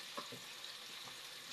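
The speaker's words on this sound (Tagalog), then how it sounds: "Igisa muna natin. Kamatis." Tomatoes sautéing in a pan give a faint, even sizzle with a few soft stirring scrapes near the start.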